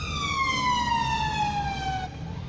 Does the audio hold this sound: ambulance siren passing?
yes